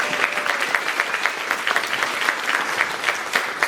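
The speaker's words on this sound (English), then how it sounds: "let's get another round of applause for Edna and her chapter presidents" An audience at a Turning Point Action rally claps together in a dense, sustained burst of applause with no talk over it.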